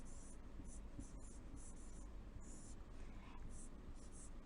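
Writing on a classroom board during a fourth-grade math lesson: soft, quiet scratches in a steady run of short strokes with brief pauses, heard over a low room hiss.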